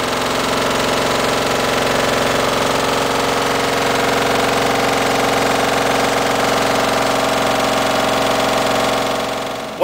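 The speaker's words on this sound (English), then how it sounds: "By pushing the green button, we'll start the Geno grinder running." A Geno/Grinder tissue homogenizer runs in a lab with a steady, loud mechanical drone and dense vibrating buzz that holds for the whole stretch without pause.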